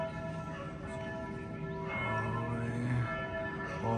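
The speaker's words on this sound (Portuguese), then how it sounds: "vocês podem tá vendo que tá tocando o sino aqui agora, ó." Church bells ring steadily through a liberation celebration in a Luxembourg town marking the end of World War II, a dense, sustained peal of overlapping tones with no pauses, fairly loud and continuous.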